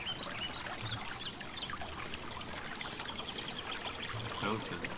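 Fountain water runs in a steady, faint wash through a quiet rear garden in The Black Mirror (2003, PC), with a few bird chirps scattered above it.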